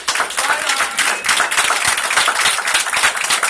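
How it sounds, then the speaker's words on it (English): An audience fills a room with dense, loud applause, a continuous wash of many hands clapping at once without pause. "it's not that I don't love your applause, I do"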